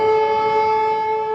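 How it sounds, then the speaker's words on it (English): A civil defense air raid siren in Ukraine wails loud and sustained, a steady harmonic tone holding evenly throughout with no other sounds over it. "Very often they say the sirens are almost back to back."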